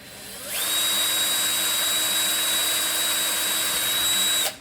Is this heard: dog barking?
no